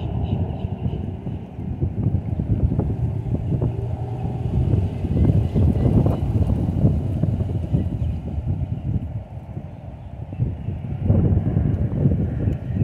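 Wind blows across an open fishing spot, a continuous rough low rumble buffeting the microphone, rising and easing in gusts for the whole stretch with no talking.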